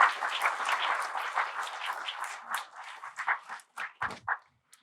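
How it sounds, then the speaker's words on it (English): Audience applause at a book launch, a dense wash of clapping that thins into a few scattered final claps before fading out. "Can we have a warm round of applause for him?"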